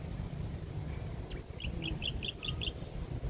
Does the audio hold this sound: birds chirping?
yes